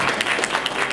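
Audience at a literary stage event of a youth poetry forum at the World Book Fair in New Delhi applauds after a poem is read, a short stretch of steady, dense clapping from a crowd with no talking.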